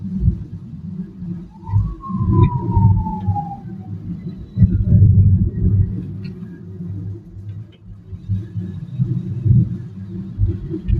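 Heard from inside a car moving at around 36 km/h along a lightly trafficked Dhaka road toward the Mouchak–Moghbazar flyover, a continuous low rumble rises and falls, with a faint descending whine early on.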